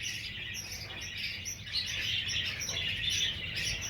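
A dense, continuous chatter of many budgerigars chirping and warbling together fills an enclosed breeding room of about 40 cages, steady and moderately loud.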